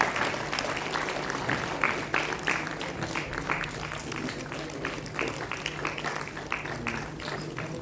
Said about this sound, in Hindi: कृपया जोरदार तालियों से आप लोग अभिनंदन करें।